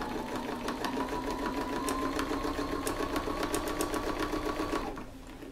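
A sewing machine stitches in the ditch along a quilt's background margin, a steady close whirring run of rapid needle strokes that stops just before the end, leaving quieter room tone.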